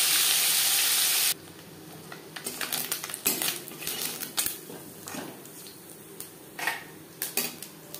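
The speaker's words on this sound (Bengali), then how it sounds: "প্রথম ব্যাচের মাছ আমি একটু কড়া করেই ভেজে নিলাম।" Small mourola fish, salted and rubbed with turmeric, frying in a wok. A loud, bright sizzle bursts at the start and then drops to a quieter fry under repeated clinks and scrapes of a metal utensil against the pan.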